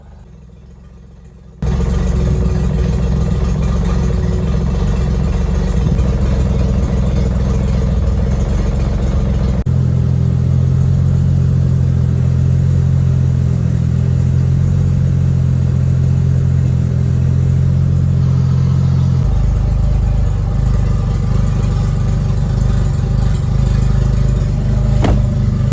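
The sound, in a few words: GS300 turbo engine idling, blow-off valve venting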